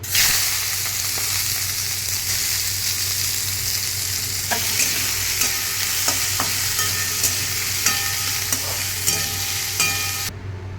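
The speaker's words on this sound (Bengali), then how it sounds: "এবার যে সবজিগুলোকে আমি সেদ্ধ করে রেখেছিলাম সেই সবজিগুলোকে আমি হালকা করে ফ্রাই করে নিচ্ছি।" Boiled vegetables fry lightly in a pan for chana paneer. A continuous close sizzle fills the clip, broken by the small clicks of a utensil stirring.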